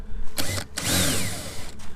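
Power drill cutting a 2.5 inch hole through a freshly painted boat hull, loud whining bursts with short pauses between them, close by.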